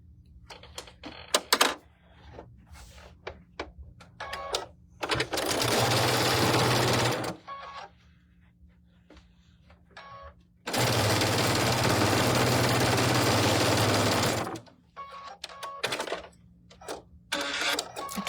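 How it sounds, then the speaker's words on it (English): A sewing machine stitches the center of a quilt block in two long, steady, loud runs of a few seconds each, with short clicks and handling noises in between. "now we're going to sew the center together"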